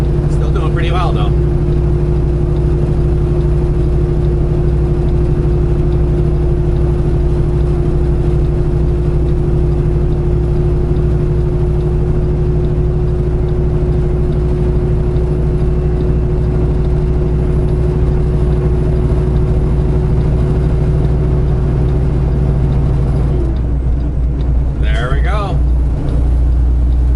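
Semi truck engine climbing a grade at about 30 miles an hour, a loud, steady low drone heard from inside the cab with a constant whine over it, and a brief voice near the start and near the end.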